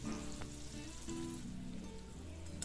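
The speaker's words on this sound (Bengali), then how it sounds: "এটা গরম তেলের মধ্যে দিয়ে দিলাম" Cornflour-coated raw peas fry in very hot oil over a high flame, giving a soft, steady bubbling sizzle with a few faint clinks nearby.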